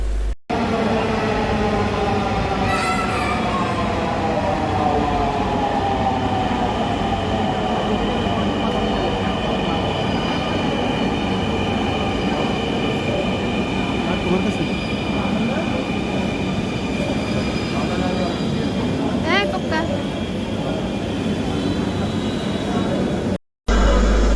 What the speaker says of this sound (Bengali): এই যে আমরা দেখতে দেখতে আমাদের মেট্রো চলে এসেছে